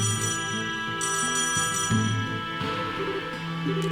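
Phone ringing in the video game Trails in the Sky SC, a repeating electronic ring over steady in-game background music, with no talking.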